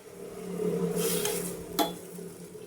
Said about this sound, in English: Mix with the spoon and it should cook some time.